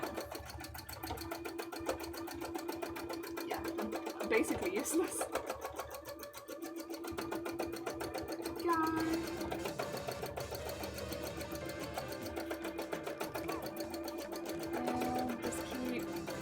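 A home sewing machine stitching fabric for an Uzumaki-themed bra runs at a steady rapid whir almost throughout, close and continuous, with someone talking over it.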